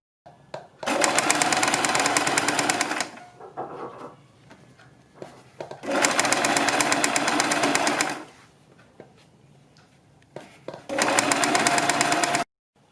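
A sewing machine stitches along the folded edge of fabric for a neckline in three long bursts. Quieter handling sounds of cloth fill the pauses between runs.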